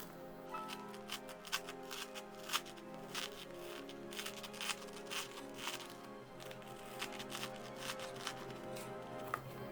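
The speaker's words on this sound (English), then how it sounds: "I'm going to go ahead and cut that part out." Scissors cut out a marked piece for a Halloween Audrey II plant craft, giving a steady series of close, crisp snips and rustles that run for about ten seconds.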